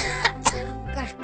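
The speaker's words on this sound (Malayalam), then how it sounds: "കണ്ടില്ലേ നിന്ന് ചുമക്കണേ?" A man gives two short, sharp coughs close by, quiet and throaty, in a comic Malayalam skit setting, with breathy background noise between them.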